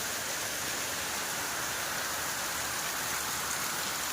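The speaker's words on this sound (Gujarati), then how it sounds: "મસ્ત વરસાદ આવે છે એકદમ જોરદાર" A heavy downpour falls without pause, a continuous, even wash of rain noise that stays fairly soft and never changes.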